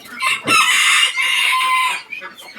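A bantam chicken crows loudly and close by, one sustained cock-a-doodle-doo followed by a few short clucks, with no other sounds.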